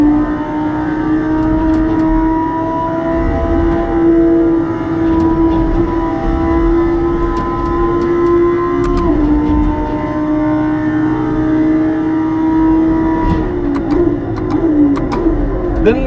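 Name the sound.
racing car engine revving in a driving simulator video game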